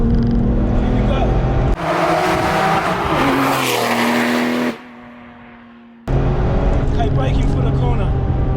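A 575 bhp Porsche 911 996 Turbo X50 pulls hard in third gear, loud rising engine roar with turbo whoosh, a sudden drop in level, then the engine surging back, with someone talking over it.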